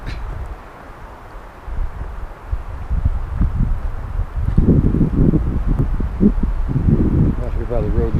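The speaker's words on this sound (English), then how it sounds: "but it's pretty windy." Strong wind gusting through a dry forest near a road, heavy rumbling buffeting and rustling that swells louder from about the midpoint, with a voice talking underneath.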